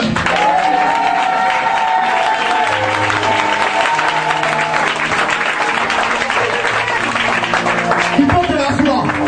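A church congregation at a prophetic service applauds and cheers loudly and continuously, a dense wash of clapping with voices calling out and music underneath throughout.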